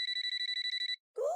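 A mobile phone rings with a rapid, bright electronic trill pulsing about a dozen times, then stops briefly before another short tone sounds; close and clear with no talking.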